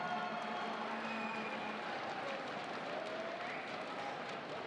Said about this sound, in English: Let's have it one more round of applause for your finalists